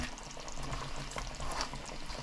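Fish pieces cooking in a yogurt and coconut sauce for fish biryani, a steady close bubbling sizzle with faint stirring running throughout.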